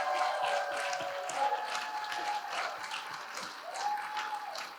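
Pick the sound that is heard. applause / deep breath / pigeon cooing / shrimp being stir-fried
applause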